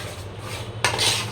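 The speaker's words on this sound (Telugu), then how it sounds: "ఇట్లా కలుపుతూనే ఉండండి, లేకపోతే ఇదంతా గడ్డ పడిపోతుంది" A utensil scraping and clinking against a pot as a thickening mixture is stirred during cooking, a steady close scrape followed by a louder metallic swish, with no talking.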